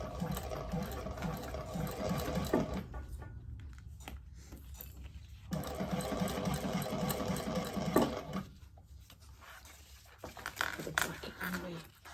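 A home sewing machine stitches fabric in steady whirring bursts, pausing briefly between runs, close and fairly loud with a faint voice now and then.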